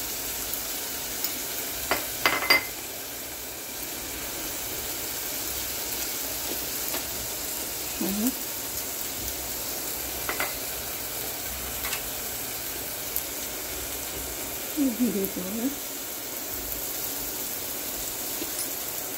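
Mushroom masala spices sizzling faintly in ghee in a pan, a low steady fry with a few short scraping stirs of a spoon against the pan.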